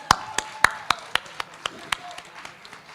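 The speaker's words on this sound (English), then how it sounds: "Another round of applause for JMPD choir" Sparse, loud individual claps ring out one by one at a municipal induction ceremony in Johannesburg, with a sung or spoken tone faintly underneath and claps thinning toward the end.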